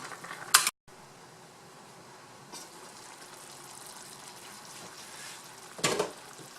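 Pork adobo being stirred in a pan, a soft simmering bubble with a scrape of the utensil near the start and again near the end, no talking.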